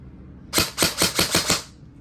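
HFC Raystar RS4 airsoft electric rifle fed from a mid-cap magazine fires five quick snapping shots in a short burst, loud and close, with quiet before and after.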